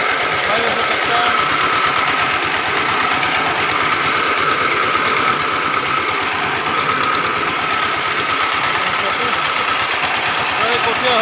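A tractor engine ploughing a field runs as a steady, close mechanical throb with an even rhythm for the whole stretch, with a voice heard over it.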